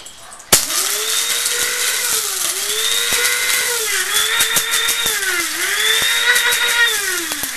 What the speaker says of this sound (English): Now here I've got some rock salt, and throw that in the spice grinder.